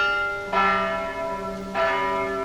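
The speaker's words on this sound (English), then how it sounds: "At 12:25, a ringing is heard from the town hall bells." Town hall bells ring out in the open air, two full, resonant strikes about a second apart with long humming decay, loud and near, no voices.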